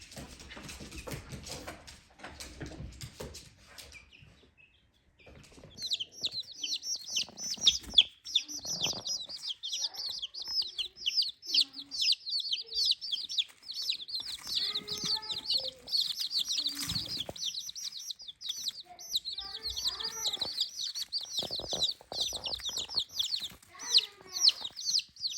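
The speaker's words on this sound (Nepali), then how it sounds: "यो चाहिँ हाम्रो सानो चल्ला" Small backyard chicks kept indoors out of the cold give a dense, steady stream of high peeping chirps with soft clucks. The chirping is close and continuous after a few seconds of quieter shuffling.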